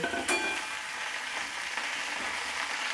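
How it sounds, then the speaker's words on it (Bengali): Cauliflower florets, already boiled with salt and turmeric, frying in hot oil in a wok: a steady, even sizzle with faint crackle and a brief stir near the start, no talk. "এবার আমি কপিগুলো কড়াইয়ের মধ্যে দিয়ে হালকা ব্রাউন কালার করে ভেজে নেব।"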